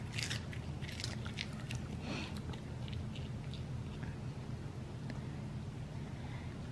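Two dogs crunch and chew treats close by, with a rapid run of sharp crisp bites early on and then scattered crunches over a low, steady background hum.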